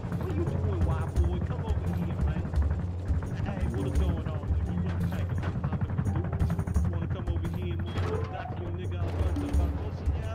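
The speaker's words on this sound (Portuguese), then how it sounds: "vem o helicóptero, vem o helicóptero, passa, passa, passa, passa" In the survival video game Rust, a helicopter's rotor beats in a loud, rhythmic, low chop as it flies past, with an excited voice talking over it throughout.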